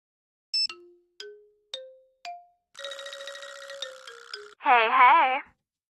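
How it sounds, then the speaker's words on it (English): Phone ringing in the Nancy Drew: The Deadly Device video game: a run of four descending electronic dings, then a sustained buzzing ring tone and a wavering warble, loud and clear with no talk. "And let's go make some phone calls."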